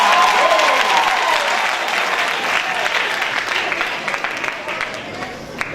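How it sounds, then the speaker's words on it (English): Interns give themselves a big round of applause, a dense, sustained clapping from a sizeable audience that fades slowly toward the end, with voices murmuring underneath. "Give yourselves a big round of applause."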